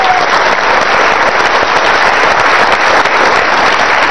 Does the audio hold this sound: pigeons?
no